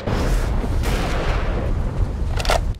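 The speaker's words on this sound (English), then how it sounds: "There's an explosion." A loud explosion booms in the first-person shooter Metro Last Light Redux, a dense, rumbling blast that fills the whole stretch and swells again briefly near the end.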